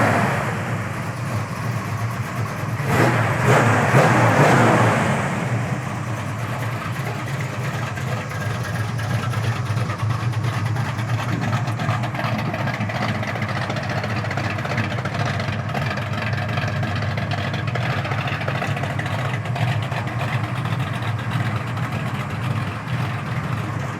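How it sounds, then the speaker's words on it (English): Low, steady idle of a 1939 Ford Coupe street rod engine, a smooth rumbling burble with a brief louder swell early on, otherwise constant and close. "What a nice sounding car."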